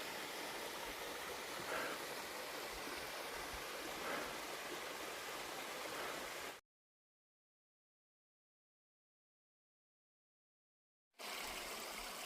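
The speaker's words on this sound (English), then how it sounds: "This is some more of that same stream." A small stream flowing along the Appalachian Trail, a steady, soft rushing wash of water that cuts to silence for several seconds before resuming.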